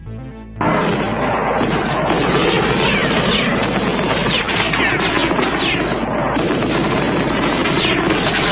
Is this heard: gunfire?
yes